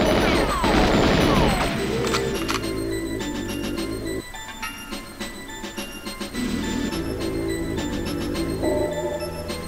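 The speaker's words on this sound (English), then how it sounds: "we blow up these turrets." Turrets blown up in the GoldenEye 007 video game on the Frigate and Surface stages: a dense, loud run of crashing explosions and gunfire over a droning game soundtrack, with no talk over the action.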